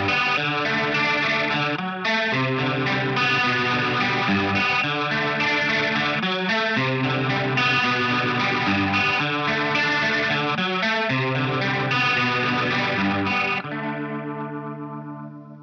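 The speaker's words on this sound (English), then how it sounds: "What I'm gonna do is turn on my Leslie effect pedal, and I'll play this arpeggio picking part that comes in next." An electric guitar picks a steady arpeggio through a Leslie effect pedal, giving a swirling, wavering chorus-like tone, loud and close with no voices, before the last notes fade out.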